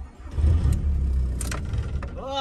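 A warm car engine cranks and catches, then settles into a loud, rough idle that holds steady close by. Faint voices are heard in the background.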